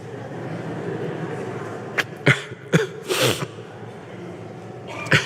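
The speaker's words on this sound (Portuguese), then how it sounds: "A criança está até tossindo também, né?" A child coughing in a handful of short, separate bursts, fairly faint against a quiet room background.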